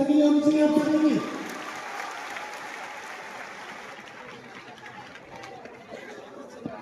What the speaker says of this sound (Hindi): एक जोरों ताली लगी होनी चाहिए आप सभी की